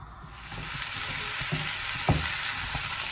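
Skillet potatoes frying for breakfast as the heat is raised, a dense broad sizzle with several soft scraping strokes of stirring, close and steady, no voices.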